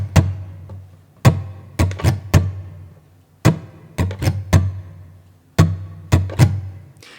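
Muted acoustic guitar strums in a choppy down, down, down, up rhythm, short percussive chucks in clusters separated by brief gaps, close and dry, with no voices.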